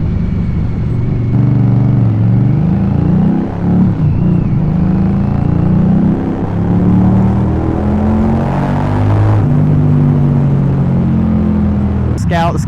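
An Indian Scout cruiser motorcycle engine roars under throttle, a loud, deep rumble with rising and falling pitch as the rider accelerates and shifts, heard close up from onboard while someone talks.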